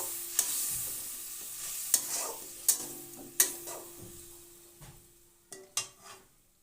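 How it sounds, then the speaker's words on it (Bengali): Spice paste with a splash of water sautés in a pan, sizzling softly under sharp, irregular clinks and scrapes of a spoon stirring against the metal, several distinct taps spaced about a second apart. "দিয়ে দিলাম সামান্য জল, দিয়ে মশলাটা ভালো করে কষিয়ে নেব"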